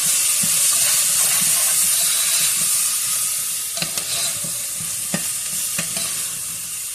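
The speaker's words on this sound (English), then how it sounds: "I even have some of my roasted veggies I'm going to throw in from my roast to give it that porky flavor" Roasted vegetables from a pork roast tipped into a pot of simmering green bean soup, a steady steamy sizzle with a few sharp clatters and stirring knocks near the middle and end, no voices.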